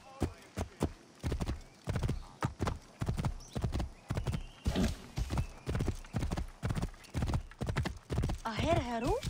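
Rapid rhythmic hoofbeats of a galloping horse, loud and close, with a brief whinny near the end; faint voices underneath, in Assassin's Creed Origins.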